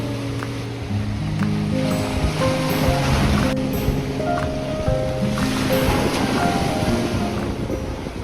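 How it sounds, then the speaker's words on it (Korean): Ocean waves wash steadily onto the beach at Sokcho, a continuous broadband surf with wind buffeting the microphone throughout. "파도야 파도 신기하지?"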